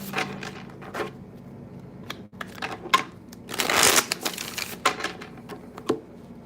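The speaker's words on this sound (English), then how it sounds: "3 more shuffles." A deck of playing cards is shuffled repeatedly by hand, giving quick riffling bursts and soft taps close up, with a louder run of riffles in the middle and no talking.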